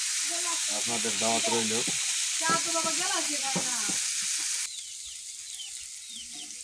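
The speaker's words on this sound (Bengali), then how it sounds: "এখন পেঁয়াজগুলা কষাই নেওয়া হচ্ছে" Onions sauteing in a pan for a rohu fish curry in a home kitchen, a steady broadband sizzle running throughout, with someone talking over the first part before the frying continues alone.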